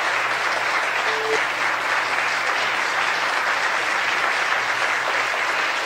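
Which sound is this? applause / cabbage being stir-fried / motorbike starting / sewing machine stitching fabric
applause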